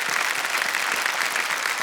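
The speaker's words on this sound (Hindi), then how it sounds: "तालियां बज जाएं इनके लिए।" A studio audience at the KBC quiz show claps in a dense, even burst of applause, loud and continuous.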